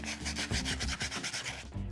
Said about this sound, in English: take your sandpaper and smooth both sides.